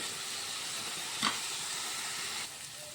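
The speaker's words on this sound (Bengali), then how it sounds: "আলু আর পেঁয়াজ ভাজা হয়ে গেছে" Potatoes and onions fry in a pan while drumstick flowers wait to be added, giving a steady, soft sizzle throughout with one brief clatter of stirring partway through.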